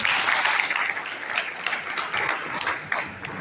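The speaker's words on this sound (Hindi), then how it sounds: "इन सबके लिए भी एक बात ताली" Sustained audience applause at a Vishwakarma Puja gathering, dense clapping from a crowd that holds steady then thins slightly, with a few louder individual claps standing out near the end.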